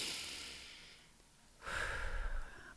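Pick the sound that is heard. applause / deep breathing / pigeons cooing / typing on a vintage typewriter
deep breathing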